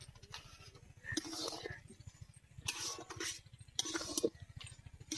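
Jujube pickle with spices being stirred in a pan, a spoon or spatula scraping and clinking against the metal in a few separate bursts over a steady low hum.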